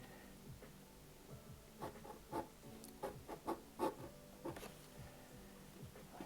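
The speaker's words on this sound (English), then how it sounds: "So now I'm going to draw a little bit of a silhouette of the clothing." A pencil sketches on paper, drawing the silhouette of clothing in quiet, scratchy strokes that come in short irregular bursts, close and soft.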